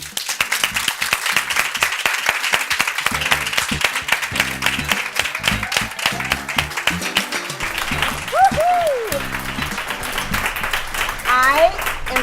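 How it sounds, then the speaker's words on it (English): Audience applause welcoming guests on a Sunday morning, dense clapping from a crowd that holds steady throughout, with children's voices and chatter mixed in. "So I want you to all give my guests a round of applause as they come to talk with you this"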